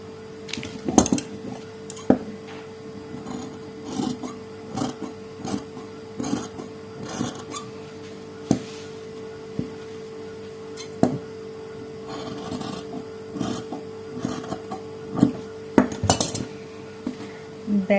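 Scissors cut fabric to shape a baby collar, giving scattered sharp snips and clicks at uneven intervals over a quiet background with a faint steady hum.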